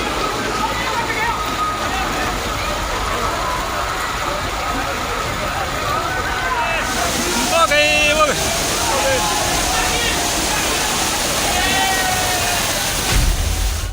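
Rushing floodwater current during the Rajasthan floods, a broad steady roar of churning water close by, continuing throughout with faint background sounds and brief chirping tones mid-way.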